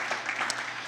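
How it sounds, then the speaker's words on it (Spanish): Applause from a church congregation, a brief burst of many hands clapping that fills the room at steady loudness for under a second. "Damos un aplauso a Jesús por eso."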